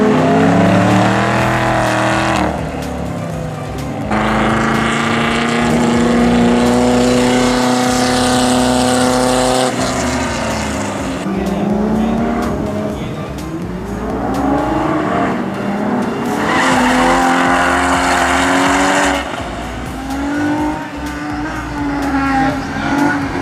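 Cars at an autocross event, including a Dodge Challenger Hellcat, roar through the course with loud, sustained engine revving that rises and falls with gear changes, continuous across the run with no talking.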